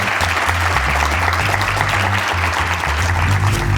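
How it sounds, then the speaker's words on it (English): Loud, dense applause from the audience at a live podcast recording at a writers' conference, steady throughout with a low musical hum beneath it. "you can give yourself a big round of applause"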